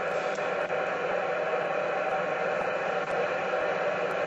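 Steady broadband static hiss from an HF radio tuned to UK CB frequencies, loud and unbroken for the whole stretch, with no voices.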